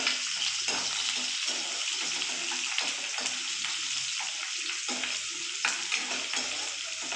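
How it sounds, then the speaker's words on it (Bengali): Chopped onion sautéing in a pan for a Bengali-style paneer with curry leaves, a continuous loud sizzle with scraping stirs, close and alone. "পেঁয়াজটা হালকা একটু সটে করে"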